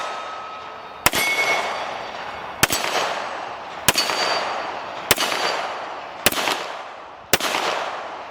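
Six sharp pistol shots from a Savage 1911 handgun firing cheap steel case ammunition, spaced about a second apart, each a loud crack with a ringing tail, no talking.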